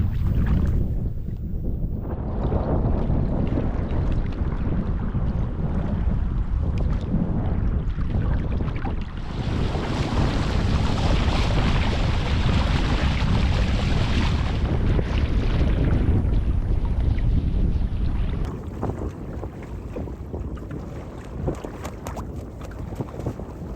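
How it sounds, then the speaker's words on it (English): A sailing boat heading down the Anglesey coast in strong wind, with loud, constant wind buffeting and water rush, close and unbroken, no voices. "we could actually start sailing pretty quickly and head down the coast"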